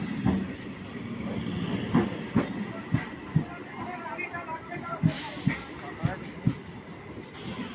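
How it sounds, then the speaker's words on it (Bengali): A local train stands at a busy Sealdah platform, with low rumble and a series of rhythmic metallic knocks and clanks under crowd noise and nearby voices, and a brief hiss of air toward the end. "এই যে ট্রেনও ঢুকে গেছে"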